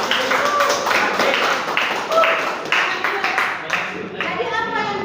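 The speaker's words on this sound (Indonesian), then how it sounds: "Aplaus." Applause from a classroom of students, quick hand claps in a steady patter that carries on throughout, with a teacher's voice and some chatter layered over it.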